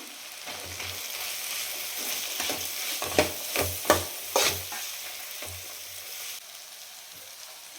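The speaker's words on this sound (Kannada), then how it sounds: "ಸ್ವಲ್ಪನೇ ಚಿಲ್ಲಿ ಪೌಡರ್ ಆ್ಯಂಡ್ ಸ್ವಲ್ಪ ಅರಿಶಿನ ಚೆನ್ನಾಗಿ ಮಿಕ್ಸ್ ಮಾಡ್ಕೊಳ್ಳೋಣ" Chilli powder and turmeric are stirred in a hot frying pan, with a steady sizzle of oil under repeated scraping strokes of the spoon and several louder clinks against the pan, close and clear with no talking.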